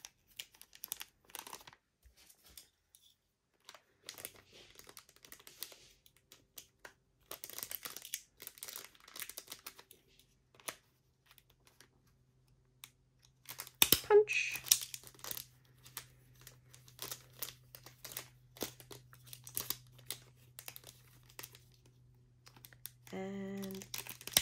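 Cellophane bag crinkling and rustling close by in bursts while a card bag topper is lined up on it for a confetti craft, with sharp crackles and a brief low hum late on.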